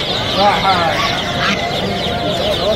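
Nine-day-old Arabian chickens cluck and chirp at the Friday Ghazl poultry market, scattered bird calls mixed into a loud, busy crowd with people talking close by throughout.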